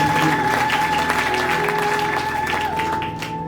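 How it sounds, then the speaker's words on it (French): A church congregation at a Pentecost service applauds loudly, a dense steady wash of clapping with a sustained tone running underneath that fades slightly toward the end. "Acclame encore très fort parce que c'est la Pentecôte"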